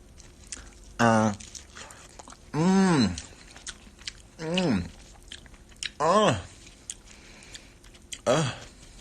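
Close mouth sounds of chewing and biting food during a mukbang: wet clicks and crunches between drawn-out voiced sounds from the eater.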